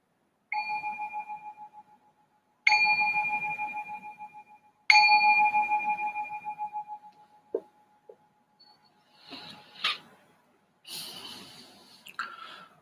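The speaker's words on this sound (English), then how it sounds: "I'm going to ring the bell to signal the start of this meditation" A meditation bell is struck three times, each ring a clear, sustained metallic tone that slowly fades, followed by a few soft knocks and breathy rustles, close and quiet.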